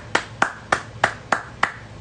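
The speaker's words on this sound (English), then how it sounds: "I'm gonna clap it up. I'm gonna keep clapping it up, man." Six sharp, evenly spaced hand claps ring out alone, close and crisp, each with a short bright ringing tail over a faint low hum.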